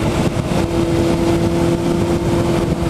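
Honda CBR 600RR four-cylinder sport motorcycle engine revving loudly and steadily up close, a sustained high-pitched mechanical roar with no pauses.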